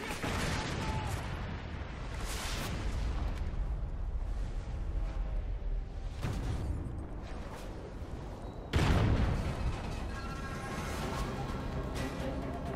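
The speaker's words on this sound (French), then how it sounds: "Frappe de KEM alliée imminente." Allied KEM strike explosions in a multiplayer shooter on the Freight map, a long rolling roar of blasts and rumbling with a sharp louder burst near the end, heavy and continuous, under faint game voices.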